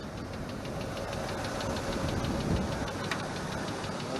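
Land Rover Discovery 2 engine idling with a steady mid-range rumble and a fast, faint rhythmic ticking from the valve lifters, close and constant throughout, with no talk.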